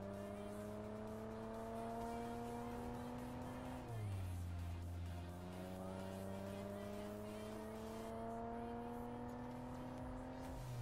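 A car engine drones steadily in PUBG, a sustained mid-level hum that dips in pitch partway through as if shifting or easing off, then climbs again, with no talking over it.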